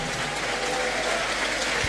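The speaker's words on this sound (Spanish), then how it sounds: "Fuerte, que se oigan los aplausos." A crowd at a religious debate between a pastor and priest Luis Toro claps loudly to welcome a guest, a full, continuous burst of applause from many people that stays strong from start to finish.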